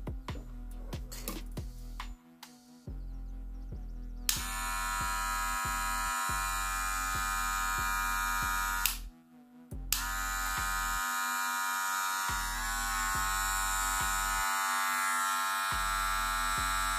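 Wahl Magic Clip cordless hair clipper with a new 6,500 RPM motor, fitted with a 4200mAh battery, buzzing loud and steady with a few brief stops and restarts, the motor tone shifting slightly as it runs.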